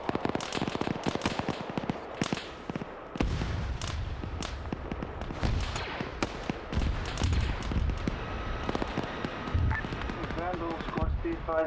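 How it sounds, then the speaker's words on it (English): Fireworks rockets firing in rapid succession, dense crackling pops and sharp bangs with bursts of repeated shots, loud and near, continuing throughout with faint whistling toward the end. "The rockets are surely firing."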